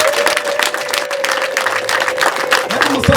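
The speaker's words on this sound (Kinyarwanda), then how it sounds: "mukome mu mashyi mwese" Wedding guests applaud in a steady, dense patter of many hands, fairly loud and continuous, with a sustained tone and brief voices near the end.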